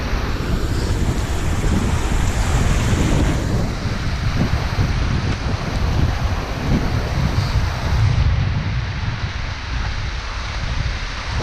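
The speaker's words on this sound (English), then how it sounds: "By far the biggest waterfall I've seen so far today." Arbuckle Cascades waterfall on an Oklahoma hiking trail, a loud, close, continuous rushing roar of falling water with broadband wash and some wind buffeting, no voices.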